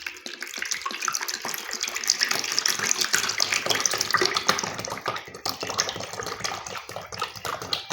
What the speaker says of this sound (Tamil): இப்போ 2 லிட்டரு தேங்காய் வந்து நம்ம இதில் சேர்த்துக்கலாம்